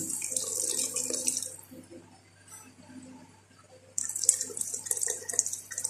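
Spice broth for chole strained into a pot, with splashing, pouring water in two bursts separated by a quieter stretch of soft clinks and handling.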